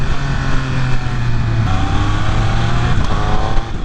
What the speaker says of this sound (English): But that triple cylinder engine sounds so good